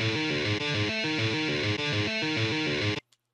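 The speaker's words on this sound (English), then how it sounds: "We're going to single out the guitars here and it sounds like this." Isolated distorted guitar track played back in Guitar Pro, a chugging riff of repeated chords in steady rhythm, loud and alone, stopping abruptly.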